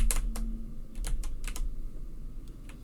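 Keystrokes from arrow keys on a computer keyboard while someone plays the Powerline.io browser game: a handful of separate clicks, some paired, spaced irregularly across a few seconds over a steady low hum.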